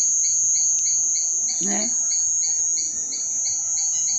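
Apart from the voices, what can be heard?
crickets chirping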